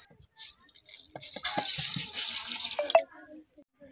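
Water poured over chana dal (split chickpea lentils) to soak them for an outdoor khichuri cookout, faint uneven splashing and trickling with a few drips near the end.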